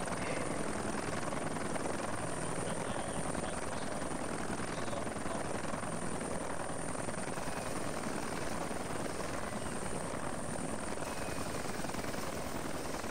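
Military helicopter engine and rotors at a joint training exercise, a loud continuous close whine and thrum filling the whole stretch without pause.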